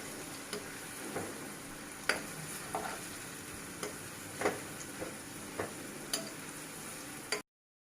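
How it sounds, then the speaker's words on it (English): Onions for biryani beresta fry in oil in a pan over a high flame. A soft, steady sizzle is heard, and a spatula taps or scrapes the pan every second or so, quiet and close. "Now we will add some oil in the pan and we will keep the flame high. Now we prepare our beresta."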